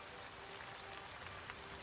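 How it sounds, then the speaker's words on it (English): Rain patters outside as a soft, steady hiss of drops hitting surfaces, faint and even throughout with no voices. "It's raining."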